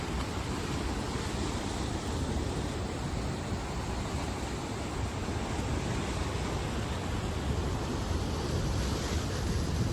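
Water released from a dam at about 19,000 cusecs roars in a constant, dense rush with no breaks, steady and loud throughout.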